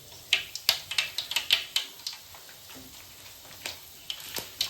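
Mustard seeds spluttering in hot oil while making chitranna, a lemon-style rice dish: irregular sharp pops and crackles over a soft sizzle, clustered densely at first and then thinning out, close by with no voices.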